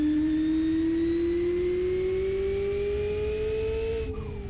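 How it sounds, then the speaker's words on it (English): Turbocharged GT3 race car engine in Live for Speed, holding a steady, loud rising tone as it builds speed, then a brief flutter and drop near the end as the throttle lifts. "Love the turbo flutter, sounds so good"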